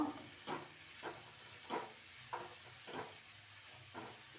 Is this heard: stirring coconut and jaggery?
yes